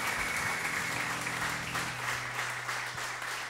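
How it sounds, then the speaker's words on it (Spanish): Steady crowd applause at a live music session, continuous and fairly close, with a low sustained hum running underneath throughout. "Fuerte ese aplauso,"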